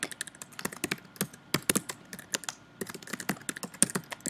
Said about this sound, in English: I'm trying to type so fast and I'm misspelling all kinds of stuff